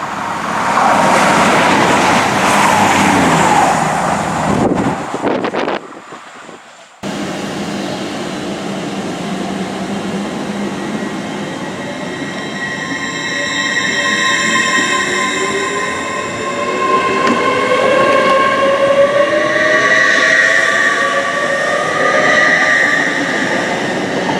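The 16:52 train to Liverpool Street departing a station platform, loud rumble giving way after a brief dropout to rising whine and squealing wheels as it pulls away, with no voices.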